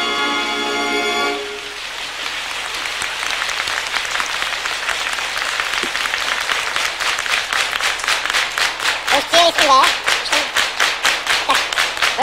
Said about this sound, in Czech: jak má vypadat takový frenetický potlesk